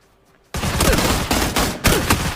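After a short near-silence, a handgun fires in an online shooter game: loud, close, sharp cracks repeat across roughly two seconds, with no talking over them.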